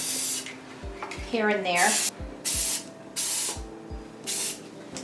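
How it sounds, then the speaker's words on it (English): Several short bursts of black, white and blue aerosol spray paint hissing from a can onto a craft, separated by brief pauses, with a person speaking briefly in between. "I'm going to spray some bits of spray paint"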